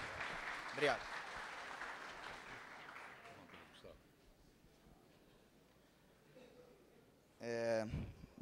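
Faint audience applause at a Brazilian Lean convention as an engineer is introduced; the clapping fades away over a few seconds, leaving a quiet room before a voice begins speaking.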